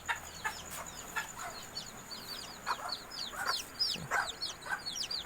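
Soft clucks and chirps from a Golden Sebright hen and her chick come in short, scattered bursts, fairly faint and close, over a quiet farmyard background with no talking.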